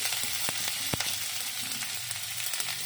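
Onion and green chili lightly frying over a high flame give a steady, close sizzle, with a few sharp clicks of utensil strikes near the start.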